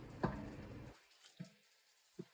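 Glass candle jars lowered into hot water for dyeing, giving a few soft, close splashes and dull knocks spaced apart, with quiet watery trickling between them.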